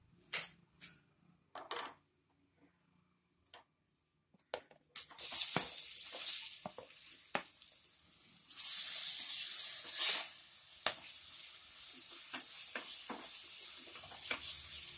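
Chopped onions tipped into a hot pan of spiced oil for egg biryani, giving a few scattered clatters and then a steady close sizzle with bursts of hissing and stirring scrapes.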